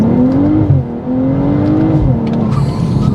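A tuned 450 bhp BMW M240i xDrive with a B58 engine launches hard, the loud nearby engine note climbing and holding through the run, with a brief dip midway and a high squeal near the end.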